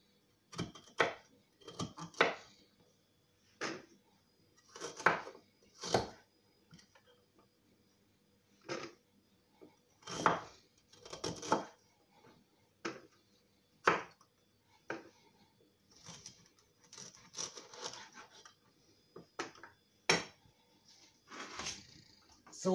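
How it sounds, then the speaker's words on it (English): A knife chopping ginger into small pieces on a board, crisp uneven taps in quick clusters with short pauses between, close and fairly quiet. "I'm just cutting up my ginger in small pieces"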